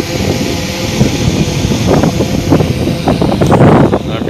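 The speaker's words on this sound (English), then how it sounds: "See how it'll hold up against these winds." Strong gusty wind roars across the microphone beside a hovering DJI Mavic Pro Platinum drone outdoors, a loud continuous rumble with buffeting bursts and no speech.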